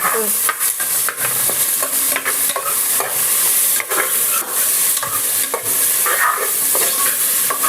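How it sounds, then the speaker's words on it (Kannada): Chopped onions frying with green chillies in a pan, a steady loud sizzle with repeated scraping stirs of a spatula throughout, no talking. "ಈರುಳ್ಳಿ ಹಾಕೊಂಡು ಸ್ವಲ್ಪ ಬಾರಿಸ್ಕೊಳ್ಳೋಣ"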